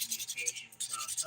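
Close, rhythmic back-and-forth rasping of a 180 grit file smoothing the top of a glitter dip acrylic nail, with a brief pause midway before the strokes resume.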